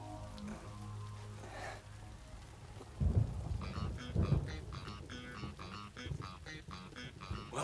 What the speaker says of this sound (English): the rain's really starting to come down now